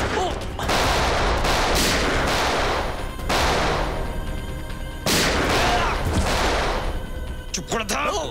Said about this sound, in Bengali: গুলি কে চালাচ্ছে